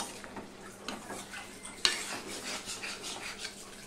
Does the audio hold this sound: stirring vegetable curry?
yes